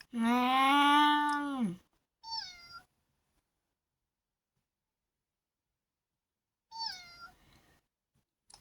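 A video game cat meows loudly and long, followed by two shorter, fainter meows after a pause, with silence in between.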